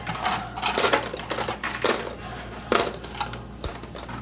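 Coins clatter and drop in a church's coin pusher arcade machine, with a run of close metallic clinks and several sharper bursts of tumbling coins over a low machine hum.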